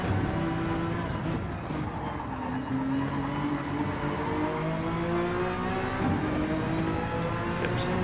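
A race car in a WTCR racing game accelerates hard, its engine note climbing steadily through the gears, loud and continuous, with a brief dip and shift midway.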